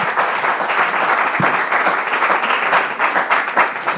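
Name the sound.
audience applause for competition results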